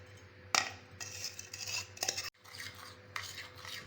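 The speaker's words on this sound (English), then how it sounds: "mix in well, mix for about 2 minutes, 2 to 3 minutes." Utensil scraping and clinking in a bowl while mixing donut dough, with repeated close strokes and soft rubbing, no voices.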